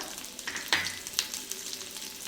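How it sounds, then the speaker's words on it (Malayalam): Garlic frying in melted butter in a pan, a soft steady sizzle with a few brief stirring scrapes, faint and alone with no voices. "ബട്ടർ മെൽറ്റ് ആയിട്ടുണ്ട്. നമുക്ക് ഇതിലേക്ക് അല്പം വെളുത്തുള്ളി ചേർത്ത് കൊടുക്കാം."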